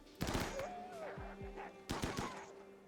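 Gunfire in the RimWorld video game, a few sharp synthetic shot bursts in quick succession near the start and again later, with faint game tones between them.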